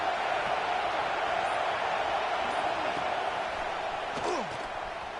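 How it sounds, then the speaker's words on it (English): A stadium crowd at a football game keeps up a loud, continuous roar that eases slightly near the end. "This crowd bringing the energy and noise early."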